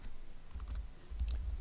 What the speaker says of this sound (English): I'm just typing on here